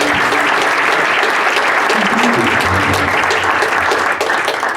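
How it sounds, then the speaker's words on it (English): A big round of applause from an audience honoring a songwriter, loud, dense clapping sustained from start to finish with faint voices and whoops mixed in. "So please give him a big round of applause"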